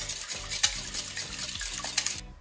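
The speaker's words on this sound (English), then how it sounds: "Then the milk, and whisk that together." Eggs and milk whisked together in a bowl for a bacon spinach artichoke quiche, quick rhythmic clinking and swishing strokes at close range, quiet and continuous, with no talking.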